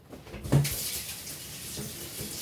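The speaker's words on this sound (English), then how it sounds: "I'm going to run this under some cold water." Cold tap water runs over freshly picked garden herbs and flowers, starting with a brief splashy gush and then settling into a steady, moderate hiss of flowing water.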